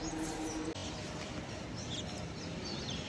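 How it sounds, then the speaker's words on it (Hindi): Birds chirp faintly outdoors, with scattered thin tweets over a soft, steady background hiss and no other clear sound. "साउंड कितनी सही आ रही ना चिड़ियाओं की"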